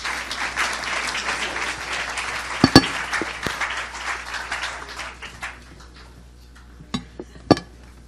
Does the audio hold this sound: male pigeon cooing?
no